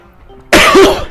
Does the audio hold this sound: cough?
yes